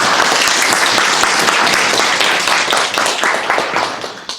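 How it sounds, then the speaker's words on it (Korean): Loud, dense applause from a seminar audience welcoming a speaker, a continuous burst of many hands clapping close by that thins out and tapers off toward the end. "뜨거운 박수로 모시겠습니다"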